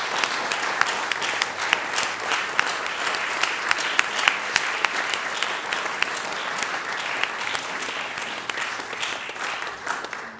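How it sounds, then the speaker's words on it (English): Sustained audience applause for classical musicians at a Polish Consulate honor event, dense steady clapping from a seated crowd lasting throughout, moderately loud and without voices. "could we please have another round of applause for these extraordinary musicians?"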